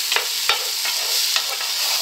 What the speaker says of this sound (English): sizzling away nicely. Okay, first thing that's gone in the pan